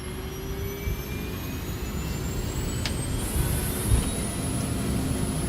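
Boeing 737 jet engines roaring steadily through a takeoff roll, a constant loud rumble with rising whine tones held for about five seconds and no voices.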